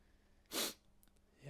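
A single short, sharp human sneeze bursts out once, fairly faint in a quiet room, with no talking around it.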